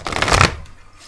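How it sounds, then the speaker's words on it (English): Oracle cards being shuffled, a quick papery riffle of cards sliding together for about half a second, loudest midway and then trailing off into quiet. "again, I invite you to shuffle."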